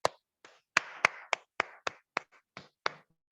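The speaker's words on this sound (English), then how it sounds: "Let me clap for you." One person claps alone in a public speaking session, about a dozen sharp, close claps in an uneven rhythm with short gaps between them.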